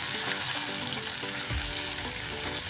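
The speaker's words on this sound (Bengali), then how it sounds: "এবার যে কাঁচা লঙ্কা, টমেটো আর আদা রসুনের পেস্টটা বানিয়েছিলাম সেটা এর মধ্যে অ্যাড করে দিলাম। দিয়ে নেড়ে চেড়ে ভালো করে মিশিয়ে নেব।" Green chili, tomato and ginger-garlic paste stirred into fried onions in a pan, a soft continuous sizzle with intermittent stirring scrapes, fairly quiet and alone.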